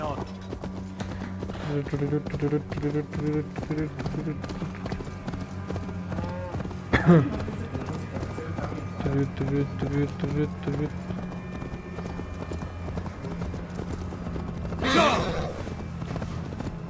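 In Assassin's Creed Valhalla, a horse's hooves clip-clop in a steady rhythmic gait alongside game music and background ambience, with a sharp louder thump partway through and another swell near the end.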